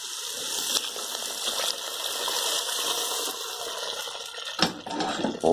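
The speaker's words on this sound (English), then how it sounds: "into that we're going to add a pint and a half of water." Water being poured into a pan of sauteed soup vegetables, a steady rushing splash with a close hiss, ending with a sharp clink and sputter as the pour stops.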